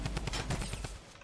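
Rapid video-game gunfire strikes an enemy in a dense, fast burst of repeated shots, loud and close, the whole brief stretch filled with clattering reports.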